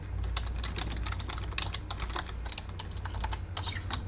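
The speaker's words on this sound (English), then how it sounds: "constructor, can't type today." Fast continuous typing on a computer keyboard while writing Angular code, a dense run of crisp key clicks over a low steady hum, close and fairly loud, with no voices.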